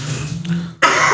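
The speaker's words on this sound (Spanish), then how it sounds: "Ya, te ataca la tos." A single sharp cough bursts out after a moment of low murmuring, close and fairly loud, standing alone.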